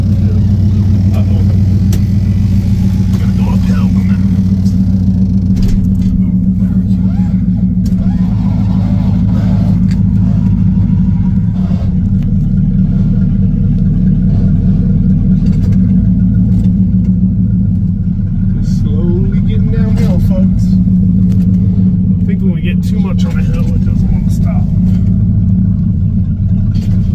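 A 1971 Buick Electra 225, abandoned for about thirty years, running and driving, its loud steady engine rumble and road noise dominating throughout, with brief faint talking inside the car.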